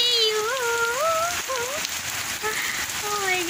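Steady rain patters on surfaces around a car being cleaned, a dense continuous hiss, while a person's wavering, sing-song vocalising rises and falls over it.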